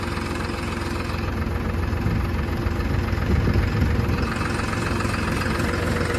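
A tractor engine works a neighbouring farm field: a steady, loud, low diesel rumble with slight knocking that holds evenly throughout and rises a little midway. No one speaks.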